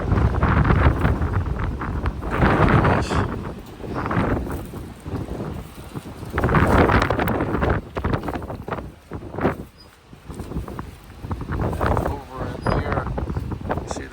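Strong outdoor wind buffets the microphone in heavy, surging gusts, rumbling low and loud throughout, at a police towing and recovery auction.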